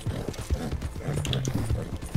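Horse hooves clip-clopping in a multiplayer heist video game, a steady run of hoof beats close by with low game noise underneath.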